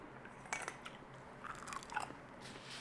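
Crisp bites into crunchy pan-fried bacon, a few sharp crunches spaced over a couple of seconds, close and fairly quiet with no talking.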